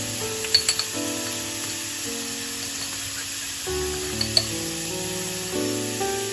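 Half a teaspoon each of turmeric and chili powder sizzling in hot oil over dal, a steady close frying hiss with a few light clinks of stirring.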